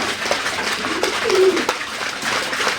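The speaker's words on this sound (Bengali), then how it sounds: "আর এমন একটা সুন্দর সাউন্ড হচ্ছে খাবার খাচ্ছে" Pigeons on a farm coo softly while feeding on scattered wheat, a few low murmuring coos over faint pecking and background rustle, nearby and fairly quiet.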